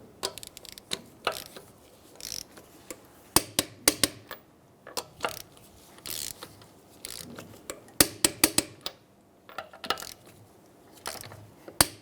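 A torque wrench tightens the lug nuts on a 2007-2015 Mazda CX-9 in a crisscross pattern to 85 foot-pounds. Scattered close metallic clicks and ratchet bursts come in uneven clusters, with no voices.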